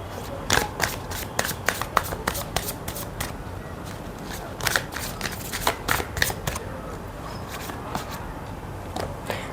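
Intuitive oracle cards being shuffled by hand, a close run of crisp riffling snaps and flutters in irregular bursts over a soft background, with no talking.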